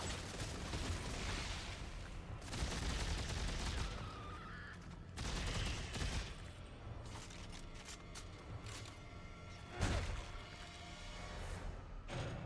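Enemy gunfire in Dead Space 3, rapid bursts of shots and impacts repeating over several seconds with thuds and mechanical clatter, fairly quiet overall.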